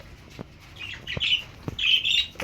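A pet Quaker parrot gives harsh, raspy squawks in two bursts, close by, with soft thumps and wing-flutter sounds between them.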